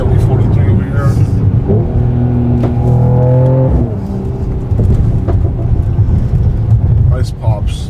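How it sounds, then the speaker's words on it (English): A Mercedes GLE 43 with a 9G-tronic gearbox accelerates on kickdown with a loud, close engine drone and audible gear shifts, broken by a few small exhaust pops. "You hear the shifts. Little pops here and there."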